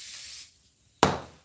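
Spray adhesive hisses from a can in two bursts, a steady spray that stops, a brief silence, then a sharp, louder burst starting again, close by while a costume mask is being furred.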